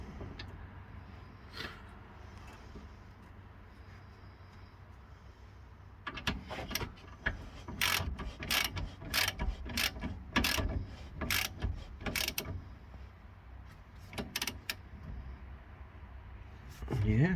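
Ratchet tightening the bottom brake caliper bolt during a Skoda Fabia rear brake pad replacement. The pawl clicks in quick bursts, close and crisp, after a quieter stretch of handling noise.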